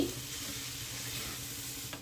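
Chopped coriander being stirred into fried vegetables for veg biryani, a soft continuous sizzle with faint scraping of the spoon, steady and close with no talking.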